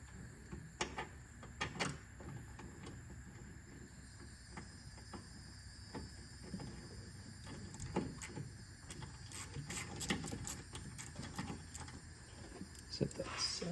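A ratchet backs out a 10 millimeter bolt near the coolant reservoir of an LT6 engine bay, making bursts of close, rapid mechanical clicking and rattling that come and go over steady background noise.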